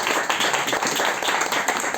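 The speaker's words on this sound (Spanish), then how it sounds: "Un aplauso para Miri y otro" An audience at a book presentation for a poetry collection applauds the speakers, a dense, even round of clapping that carries on steadily from start to finish.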